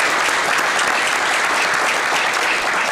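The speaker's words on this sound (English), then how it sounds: "give a nice round of applause for Pat for everything he's doing" Loud, dense applause from a crowd at a city council meeting honoring Pat, steady unbroken clapping close by throughout.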